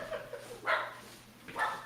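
A dog barks twice in short, sharp bursts about a second apart, moderately close, with a quieter yip before them, indoors during a Halloween costume contest.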